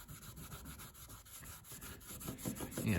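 Polish being rubbed by hand onto exhaust stains, heard as close, steady back-and-forth rubbing strokes that grow a little louder toward the end.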